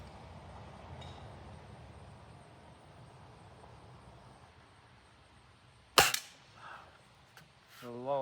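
A single sharp crack of a Beeman 1022 .22 caliber rifle during a grouping test, followed by faint clinks and rustling, otherwise quiet surroundings with a low background hiss.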